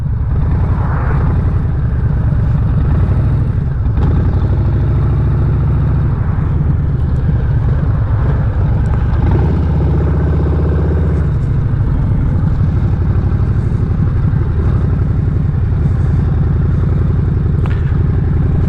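A 2023 Harley-Davidson Breakout motorcycle being ridden, its engine rumbling loud and close with rising revs, deep throbbing low end and rushing wind noise, steady throughout with no talk.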